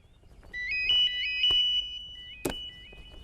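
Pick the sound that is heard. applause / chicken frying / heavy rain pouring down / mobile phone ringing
mobile phone ringing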